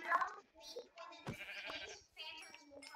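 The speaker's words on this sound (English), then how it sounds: "I found sheep and I killed sheep." A sheep in the video game Minecraft gives a few short, wavering bleats, fairly faint and close. Scattered clicks and the sounds of play surround them, and a voice speaks nearby.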